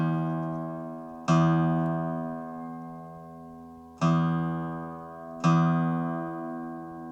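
Acoustic guitar string plucked during tuning, three separate plucks each ringing and slowly decaying, clean and close in a quiet room with no voices.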